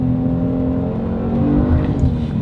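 Twin-turbo V6 of a 2022 Genesis G70 accelerating hard, a loud steady engine drone with rising turbo whir, continuous and close throughout with no talking.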